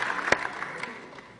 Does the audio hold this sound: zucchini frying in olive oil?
no